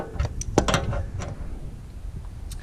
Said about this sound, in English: Manipulating the wrench in here